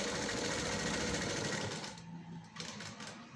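A sewing machine stitches a belt onto the front of a blouse, running as a steady, close rapid whir that eases slightly near the end, with no talking.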